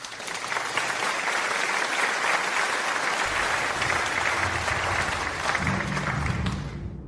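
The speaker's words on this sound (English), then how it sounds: "Let's give them another round of applause as they take their seats." Audience applause as a competing team takes their seats, loud sustained clapping from a large crowd that runs evenly, with a low murmur creeping in toward the end before it cuts off.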